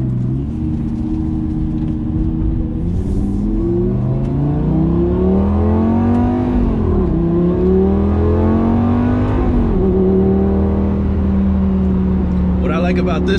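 A 2007 Lamborghini Gallardo 5.0L V10 coupe pulls hard from inside the cabin, its loud engine note climbing through the revs, dropping briefly at two gear shifts, then rising again.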